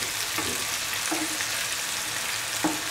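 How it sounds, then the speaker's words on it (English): Mutton keema meatballs fry in a pan with a steady, close sizzle of oil, broken by a few soft scraping stirs as they are turned. "turn over the meatballs every 30 seconds so as to make sure that they are evenly fried"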